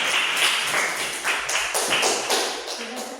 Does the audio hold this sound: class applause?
yes